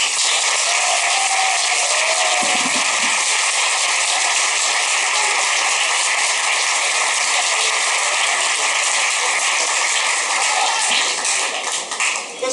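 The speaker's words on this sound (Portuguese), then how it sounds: "Uma baita salva de palmas." A lecture audience bursts into sustained applause after a talk on the changing world of the 21st century, a dense, steady wash of many hands clapping at close range for about twelve seconds before tapering slightly at the end.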